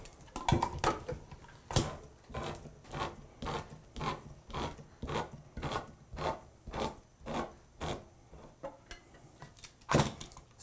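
A second can of diced tomatoes emptied into a full pot, heard as a rhythmic series of metallic clanks and scrapes repeating roughly every half second, close and fairly loud.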